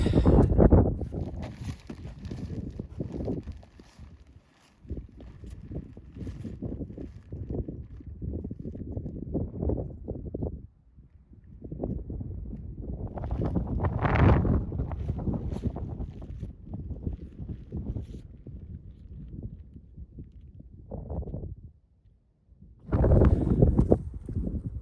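Gusty wind buffeting the microphone on the summit of Guadalupe Peak in winter, roaring in long surges with brief lulls between them, loud and close throughout.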